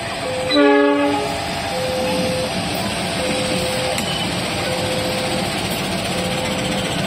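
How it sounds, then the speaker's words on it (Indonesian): Argo Semeru passenger train passing Madiun station, sounding one loud horn blast near the start, then steady rumbling rail noise with fainter tonal sounds as the carriages roll by. "kereta api Argo Semeru dari stasiun Madiun"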